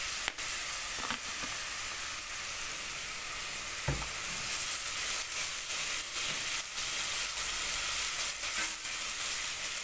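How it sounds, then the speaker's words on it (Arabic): Ingredients for Egyptian bean koshari sauté in hot oil in a pan with a steady bright sizzle, broken by scattered clicks and scrapes of stirring, and one heavier knock near the middle. "نشوح بس كده مع بعض في الزيت"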